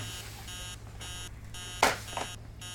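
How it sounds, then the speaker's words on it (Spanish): An alarm clock in a horror video game rings with repeated electronic beeping bursts at a steady on-off rhythm, fairly quiet, with a brief louder knock or thump near the end. "Vamos a apagar este despertador, hijo de puta, que no para de sonar."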